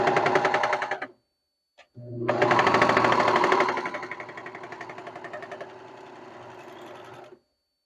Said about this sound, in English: I have blue thread on my serger right now.